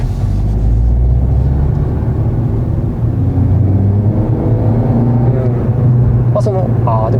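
A Suzuki Swift Sport ZC32S, the naturally aspirated model with a six-speed gearbox, drones steadily from inside the cabin while driving. The low engine and road rumble runs continuously beneath two people talking.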